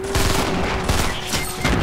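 Rapid gunfire from an online shooter game, loud and close, with several shots bursting over a busy, noisy game mix.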